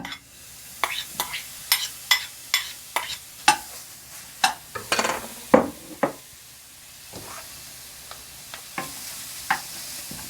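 Garlic dropped into hot olive oil for gambas gives a run of sharp, regular clinks and scrapes of a utensil against the pan over a low hiss, then a louder burst of sizzle before sparser taps.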